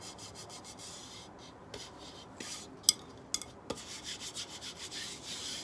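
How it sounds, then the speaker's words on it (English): Decoupage paper is rubbed onto a plate to smooth out wrinkles, making soft, repeated close rubbing strokes with a few small taps and knocks in between. "Anywhere there's a little wrinkle or something, just pull it up, rub it, and get it at the bend."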